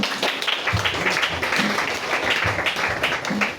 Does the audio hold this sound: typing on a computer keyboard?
no